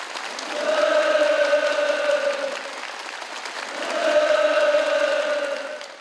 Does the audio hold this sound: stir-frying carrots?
no